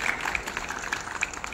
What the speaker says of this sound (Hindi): एक बार जोरदार तालियां उनके लिए होनी चाहिए।